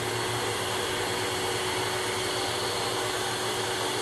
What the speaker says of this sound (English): I'm going to very carefully vacuum up any brass shavings and gold plating.